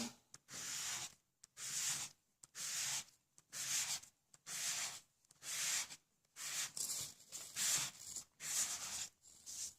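A sanding block rubs back and forth over glossy white cardstock in short strokes with brief pauses between them, dry and scratchy, fairly quiet and close.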